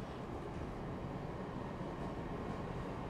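Steady interior rumble of a commuter train in motion, a low even roar of wheels and carriage noise that holds without a break, close and moderately loud, with no voices.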